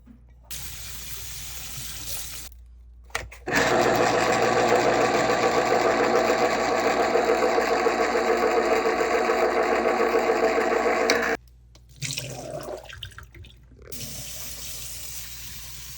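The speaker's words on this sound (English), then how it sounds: "So I'm going to drain and rinse those." Canned chickpeas are drained and rinsed under a kitchen tap, the water gushing loudly and steadily for about eight seconds between quieter handling noises, close to the listener and without any talking.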